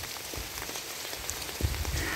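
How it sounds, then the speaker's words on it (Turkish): Steady rain patters on surfaces outdoors as someone walks through a rainy day, a continuous close hiss with a few soft low thumps near the end. "Beni soracak olursanız yağmurda yürüyorum işte."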